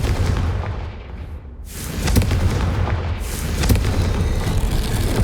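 A Confringo fire spell explosion in the Hogwarts Legacy video game, a couple of heavy booming blasts with rumbling bursts and crackles, loud and near, with no talk.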